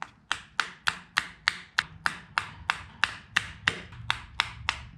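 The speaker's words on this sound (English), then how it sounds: "Hit it with a hammer and the bearing is gonna start coming out." Sharp metallic hammer blows ring out one after another in a steady rhythm, about a dozen strikes, close and loud, driving a pilot bearing out of a Toyota 2JZ crankshaft using bread.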